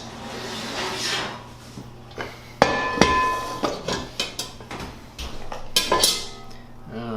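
A pot lid and bread pot holding a sourdough boule are taken out of the oven, a series of close metallic clanks, knocks and scrapes with a couple of sharp ringing hits over a low kitchen hum.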